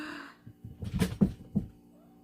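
A house cat gives a few short, fairly close meows in a quiet room, three brief calls spaced about a quarter second apart.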